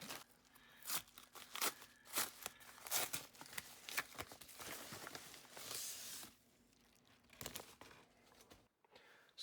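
Packaging for a Straton Legera Bullhead watch is unboxed close up, with bursts of crinkling, tearing and rustling paper and plastic that briefly quiet, then return and stop abruptly.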